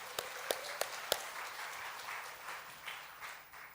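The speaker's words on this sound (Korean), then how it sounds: "우리 영상팀 박수 좀 해주세요" A church congregation applauds its video team during a Sunday morning communion service, the clapping fairly faint and diffuse across a large room, with a few sharper nearby claps standing out early on.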